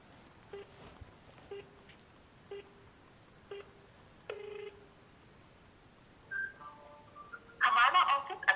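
A soft, evenly spaced ringback tone pulses several times over a phone line on an automated IVR call, followed by a brief chime and a burst of louder noise at the end.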